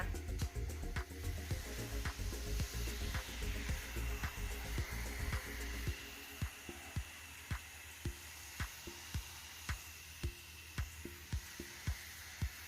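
A hand sprayer mists homemade lime-peel pest repellent over a plant, with a steady close hiss and then a run of evenly spaced pump clicks.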